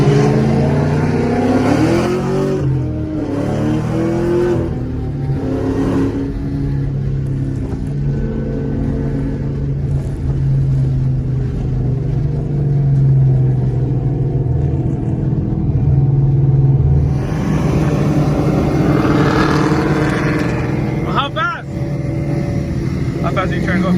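Camaro ZL1 and liter-class sport bikes, including a BMW 1000, Honda CBR 600 and Yamaha R1M and R1, rev and accelerate in a loud, steady engine roar that swells and fades, with people talking over it.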